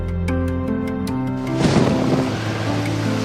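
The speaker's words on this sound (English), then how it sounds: "Mother Cat and kittens woke up views of the loud thunder outside" Loud thunder breaks out halfway through, a crackling, rumbling burst that rolls on over soft music.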